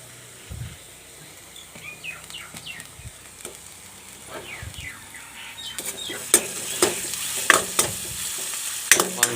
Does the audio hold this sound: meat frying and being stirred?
yes